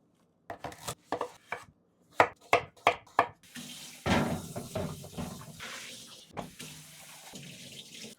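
Knife chopping vegetables such as carrot and pumpkin on a cutting board, a run of sharp, evenly spaced close-up chops followed by softer clatter and faint running water in a kitchen.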